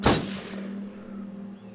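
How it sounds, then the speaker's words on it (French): A single loud gunshot in the video game Until Dawn cracks sharply at the start, then a ringing tail and low hum linger and fade over the next second and a half. "Joli tir."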